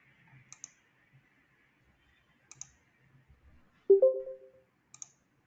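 Sparse mouse clicks on a computer come singly and in quick pairs against near silence, with a short low tonal blip in between, all quiet and close.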